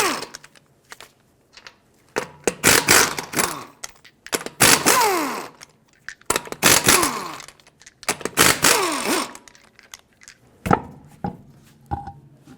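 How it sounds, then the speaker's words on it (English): Impact wrench or ratchet removing the five 19mm lug nuts from a wheel of a 2008-2020 Dodge Grand Caravan, with several loud, close bursts of buzzing drive separated by short pauses. "Take a 19mm socket, remove all 5 of your lug nuts"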